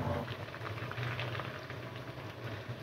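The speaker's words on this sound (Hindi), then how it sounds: "चिकन को अच्छी तरह से हमने फ्राई करना है" Chicken pieces for honey chicken frying in a pan, giving a soft, continuous bubbling crackle at low level with no voices.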